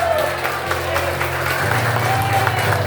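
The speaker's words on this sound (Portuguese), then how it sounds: "Os irmãos podem dar uma salva de palmas." A church congregation claps together in a brisk, steady round of applause, moderately loud, with a low sustained organ or keyboard tone and some voices underneath.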